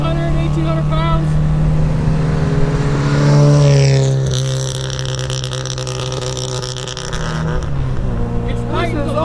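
A lightened 1967 MGB Roadster vintage race car, around 130 horsepower, drones loudly from inside the cabin as it drives, its engine note rising and then easing with gear changes, while people talk over it.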